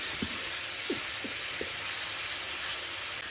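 Tamarind water poured into a hot pan for a salmon curry hits with a steady, loud sizzling hiss, and a few soft bubbling pops rise through it.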